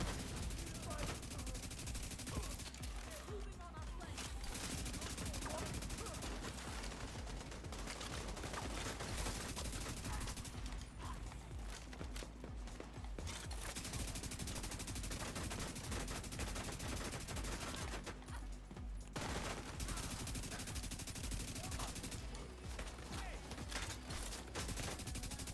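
Sustained bursts of enemy gunfire in The Division 2 crackle almost without pause, heavy automatic volleys with short gaps, fairly quiet overall.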